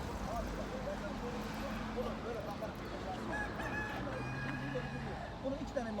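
A crowded Friday poultry market in Taşköprü, Kastamonu, where chickens cluck and roosters crow through a dense crowd murmur, the birds mostly moderate and scattered among many talking voices.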